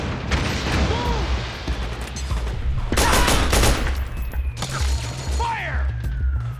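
Dense gunfire volley from a battle in the video game Metal Gear Solid 4: Guns of the Patriots, rapid overlapping shots and bursts running throughout, loud and close, with shouted voices mixed in.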